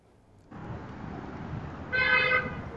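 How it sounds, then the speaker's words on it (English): A short car horn toot picked up by a security camera, a single loud honk lasting about half a second over a low street background. "so we got a car horn"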